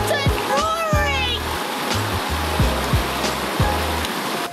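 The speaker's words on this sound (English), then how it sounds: "The water is roaring!" River water roaring along a backpacking trail to Willett Hot Springs near Ojai, a steady broadband rush with splashing, and people talking over it.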